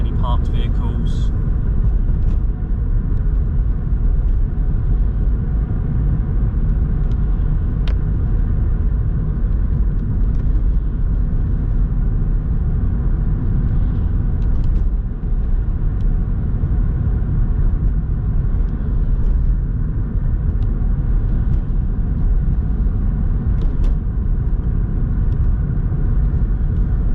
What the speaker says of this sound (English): So we can keep driving up this road again.